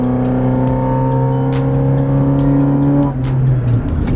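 A minivan fitted with a 75-shot nitrous oxide kit accelerates hard at the track, its engine a loud, close, steady roar that rises in pitch for about three seconds before the note drops and trails off.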